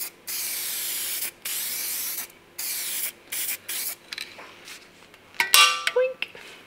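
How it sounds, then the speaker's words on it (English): Spectral 395 aerosol epoxy primer is sprayed from a can in a workshop during repairs on a Talbot Sunbeam Lotus, a series of loud hissing bursts separated by short pauses, ending with metallic clinks and knocks. "go-to aerosol epoxy"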